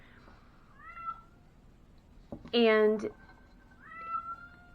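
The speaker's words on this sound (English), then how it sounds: "My cat is meowing to get in." A domestic cat meows at a door to be let in, two drawn-out cries followed by a loud, close yowl, with a person talking quietly in the background.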